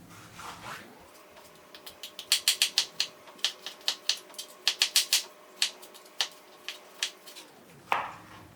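A knife chops tomatoes on a cutting board in a quick run of about twenty sharp, close taps that come in short bursts with brief pauses between them, with no talking.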